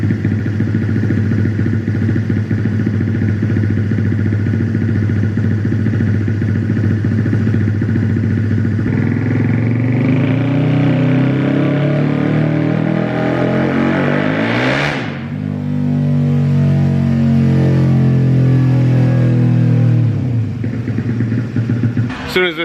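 Honda Grom fitted with a Koso 170cc four-valve engine revving hard on a dyno, a loud continuous exhaust drone climbing in pitch, peaking, dropping, then building again steadily.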